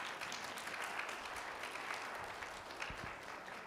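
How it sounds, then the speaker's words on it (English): Audience applause at an evening lecture on purification of the heart, a steady wash of many hands clapping that holds evenly throughout with no talking over it. "can you at least applaud my young girls here?"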